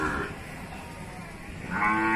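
Cattle low at Pasar Wage Bumiayu, a livestock market where young bull calves are traded. One deep moo opens the clip and another swells near the end, with muffled market bustle between.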